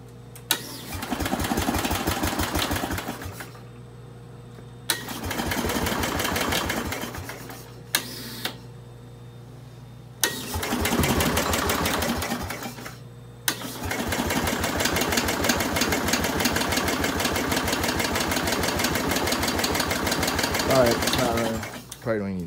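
Small Bolens engine starting with the choke on, running in bursts that cut out and restart several times before settling into a steady buzzing run, with people talking in between.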